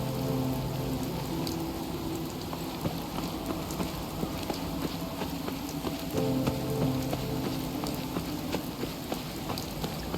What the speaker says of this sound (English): it is bloody raining.